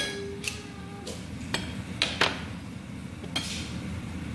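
Occasional metal clinks and taps of a utensil against a pan while chicken pesto pasta is mixed, a handful of sharp knocks over a low steady background hum.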